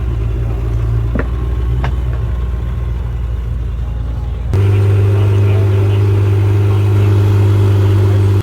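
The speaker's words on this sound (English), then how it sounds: "That exhaust though, stock sounds so good." A Lamborghini Temerario on its stock exhaust rumbles at a steady idle, then swells into a louder, deeper drone that holds close and strong to the end.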